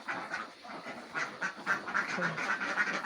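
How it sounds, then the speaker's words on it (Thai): A large flock of about seven hundred egg-laying ducks quacks in the daytime, a continuous overlapping chatter of calls at moderate distance, rising and falling in bursts. "บรรยากาศ ตอนกลางวันของไอ้ เป็ดเจ็ดร้อยตัวของเรา"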